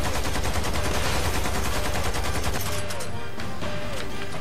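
Rapid machine gun fire from the video game Lost Planet 2 rattles loudly and continuously, a dense stream of shots that thins toward the end, with faint game sounds underneath.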